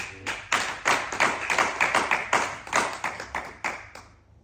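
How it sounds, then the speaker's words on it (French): A church congregation breaks into applause, a short burst of many hands clapping in uneven rhythm, strong at first and fading out after about four seconds. "Acclamons pour la parole de Dieu."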